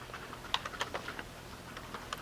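Quiet keystrokes tap irregularly on a computer keyboard while typing into an Excel cell, a few sharper clicks standing out against soft background hiss.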